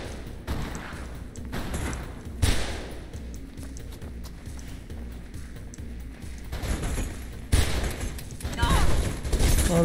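Dense gunfire in Mirror's Edge, sustained bursts of rapid shots with louder heavy cracks scattered throughout, close and loud, with a voice speaking at times amid the shooting.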